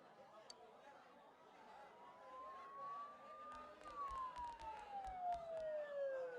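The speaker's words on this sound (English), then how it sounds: "Don't those sirens sound really close?" A wailing siren rises and falls at a distance in the video game Persona 4 Golden, audible under a faint background murmur, with a low rumble and clicks building toward the end.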